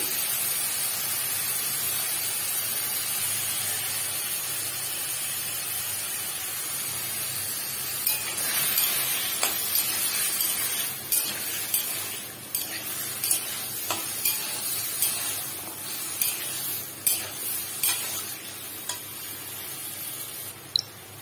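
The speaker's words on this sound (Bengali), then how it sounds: "একটু নুন আর হলুদ দিয়ে আমি এটা ভেজে নেবো।" Vegetables frying in a pan with salt and turmeric, a steady low sizzle with stirring and scraping that grows busier and clattery in the second half, close and continuous.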